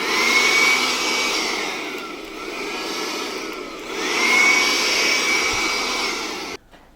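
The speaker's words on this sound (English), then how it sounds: "a lot of you would be very familiar with the M18 BBL, the basic blower," Milwaukee M18 BBL cordless basic blower running, a loud steady airy roar that dips briefly and swells again before cutting off near the end, heard alone.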